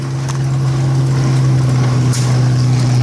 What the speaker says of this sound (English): It sounds funny because you see this tractor coming, but the noise is over there.